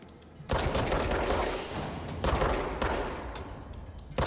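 Gunfire in the video game Control: two bursts of rapid, loud shots, each starting abruptly and rattling on for about two seconds, with no talking.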